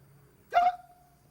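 One sharp, abrupt hiccup from a person bursts out clearly and close by, with a brief tonal tail, in an otherwise quiet room.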